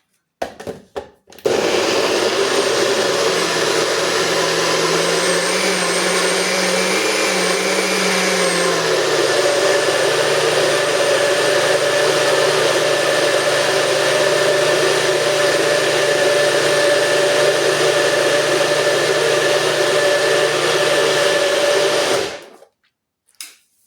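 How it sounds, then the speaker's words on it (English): A blender roars loudly for about twenty seconds blending peach, mango, apple and ginger with water, its motor whirring steadily with a slight pitch shift early on, then cutting off abruptly. "And I'm gonna blend, shake it up."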